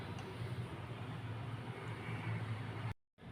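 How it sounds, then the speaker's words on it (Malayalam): A mixer grinder blending carrot, beetroot, ginger and mint with water whirs with a steady, droning roar for about three seconds, then cuts off abruptly into near silence. "ഇനി ഇത് നന്നായി ഒന്ന് അരച്ചെടുക്കാം"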